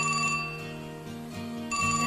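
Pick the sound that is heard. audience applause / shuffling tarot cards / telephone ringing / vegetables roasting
telephone ringing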